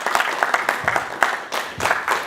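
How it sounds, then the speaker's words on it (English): A round of applause for competing teams at a college quiz competition, a dense patter of clapping from a live audience with irregular louder bursts, steady and moderately close for a couple of seconds. "Let's give them a big round of applause"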